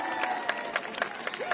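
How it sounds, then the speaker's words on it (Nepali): A crowd claps to welcome doctors at a prize distribution for players. The applause is brief and steady, with a few sharper claps standing out. "कृपया जोरदार ताली ले वहाँ स्वागत करना अनुरोध करना चाहन्छु"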